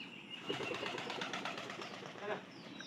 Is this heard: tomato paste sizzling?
no